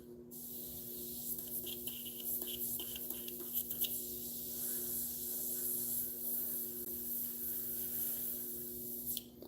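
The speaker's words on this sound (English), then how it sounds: "Well, it's spraying really small." Spray gun misting paint for camouflage on a scale model tank, a steady broad hiss running nearly the whole time with a few short sputtering bursts near the start and a constant low hum underneath.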